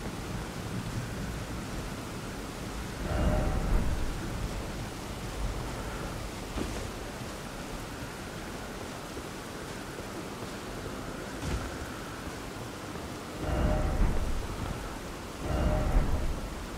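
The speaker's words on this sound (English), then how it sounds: "Where it's raining." Steady rain with gusts of wind in Elden Ring, broken by several low thunder rumbles swelling and fading at intervals, fairly quiet overall.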